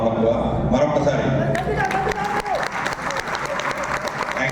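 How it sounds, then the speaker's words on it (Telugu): Applause and clapping from a crowd at a division general body meeting in Vijayawada, steady and sustained throughout, loud and close, with a murmur of voices underneath. "కళాకారులకి మనం ఇచ్చే చప్పట్లు చాలా తక్కువ"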